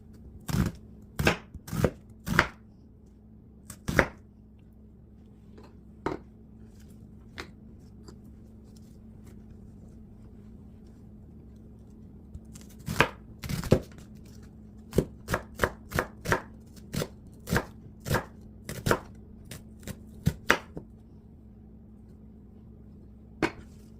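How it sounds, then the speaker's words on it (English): Knife slicing half an onion lengthwise for Cameroonian ndole, a series of crisp, close chops on a board in quick bursts with short pauses, no talking. "Then this is the other half of the onion. I'm just slicing it long."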